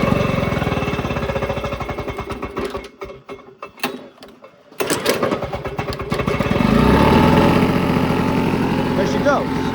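A Lawnboy 680543 lawn mower engine sputters and catches, with mechanical clatter, a brief dropout, then a loud, steady close-up running drone.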